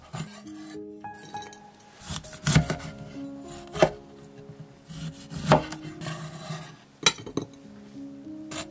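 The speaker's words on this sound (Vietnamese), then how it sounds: "Cắt ớt và chanh ra nữa cho giống ngoài hàng nè." Knife chopping chili and lime on a cutting board while preparing wonton noodle soup, with several sharp irregular thuds and faint clinks of utensils and dishes, close and clear, no talking.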